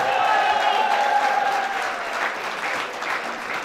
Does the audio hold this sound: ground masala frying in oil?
no